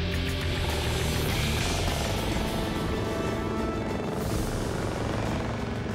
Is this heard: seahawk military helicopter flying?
yes